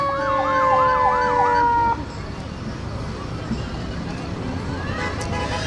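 A wailing siren sweeps up and down several times over busy street noise at a parade of lights in Thunder Bay, then cuts off, leaving traffic rumble and a faint distant tone.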